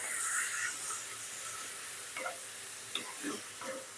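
Minced pork with pounded curry paste stir-fried in a pan, giving a soft steady sizzle with faint scraping taps of the spatula, quiet and close, no voices.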